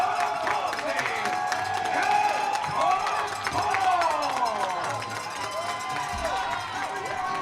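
A wrestling crowd in Uniontown cheers, shouts and applauds loudly and without a break during ring introductions, with an announcer's amplified voice over the noise.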